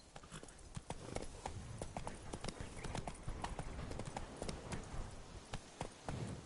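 Roach, a horse in the Witcher 3 video game, gallops with a steady, rapid clip-clop of hooves close up, with a snort or whinny mixed in, while someone speaks briefly over it.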